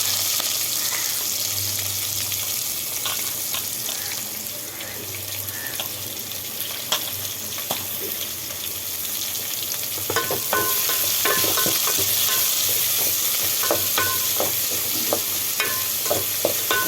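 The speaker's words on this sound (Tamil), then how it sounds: "வெங்காயம் போடுறோம்" Onions frying and sizzling in a pan for mutton curry, a continuous close hiss with scattered crackles and scraping stirs that grow busier toward the end.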